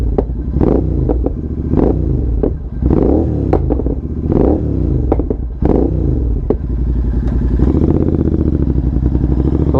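Loud, close exhaust pops and crackles burst from a Royal Enfield GT 650 running a Code 6 tune, sharp bangs repeating every second or so over a steady revving engine drone, with no voices.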